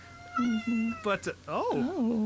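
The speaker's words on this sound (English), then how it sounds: "that's my cat" A house cat lets out several long, drawn-out meows close by, rising and falling in pitch, with a voice speaking briefly between them.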